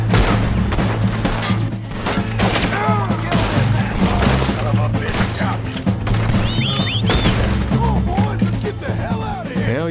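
Loud, sustained gunfire from a Red Dead Redemption II town firefight, with rapid overlapping shots and booms throughout, under a busy game mix with some voices and chatter.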